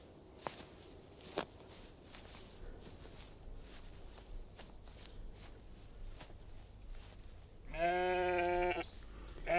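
Goats and sheep bleat nearby, a loud wavering call near the end after quiet shuffling and scattered soft thumps.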